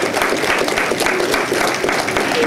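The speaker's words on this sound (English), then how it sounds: "let's give them a big applause for riding through." A crowd at a national cemetery remembrance ceremony applauds for motorcycle and horse riders, a loud, dense, continuous wash of clapping that holds steady throughout without any speech.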